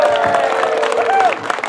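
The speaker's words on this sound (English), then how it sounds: "Big round of applause" Applause and light cheering from a crowd at a food market grand opening, with a voice talking over the clapping throughout.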